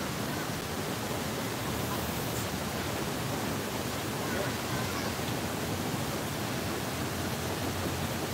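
A river stream flowing steadily, a loud, unbroken broadband rush that fills the whole clip with no clear pauses.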